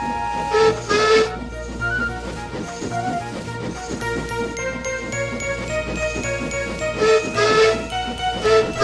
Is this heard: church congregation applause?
no